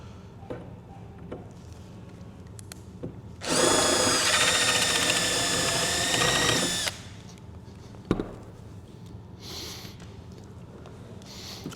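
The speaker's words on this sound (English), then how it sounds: "drill out the rivet with a 3/16 drill bit." A power drill whines steadily for about three seconds drilling out a rivet with a 3/16 bit, against quiet background, with small clicks and handling noises before and after.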